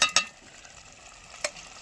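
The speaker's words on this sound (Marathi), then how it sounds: "तर इथं आता मस्त मिक्स करून घेते." Rice with moong dal for a spiced masala rice is stirred in a frying pan: two quick scraping strokes right at the start, then a single brief scrape later, with quiet between.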